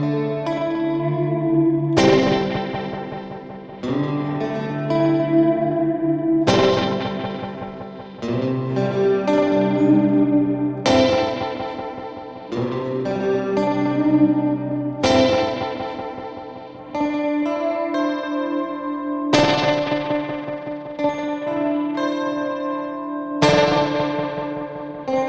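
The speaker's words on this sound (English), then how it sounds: "When you play at a normal volume, it feels like a reverb, but when you play louder, it feels like this really quirky stereo slapback." An electric guitar played through an Old Blood Noise Bathing reverb pedal sounds strummed chords with washy reverb and a quirky stereo slapback echo, each attack trailing into a shimmering tail.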